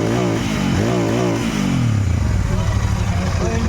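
A used motorcycle or scooter at a dealer's stock sale in Nalbari starts up and revs loudly, the engine note rising and falling over a steady idle close by, with voices talking over it.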